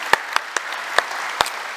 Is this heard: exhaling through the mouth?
no